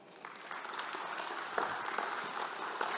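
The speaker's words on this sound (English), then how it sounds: "can we get an applause for our military people?" Audience at a physical and cybersecurity presentation claps for military members in the room, with a moderate, steady round of applause that holds evenly for about three seconds.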